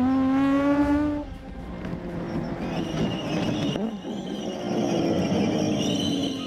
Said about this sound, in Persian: صدای ترمزاشه.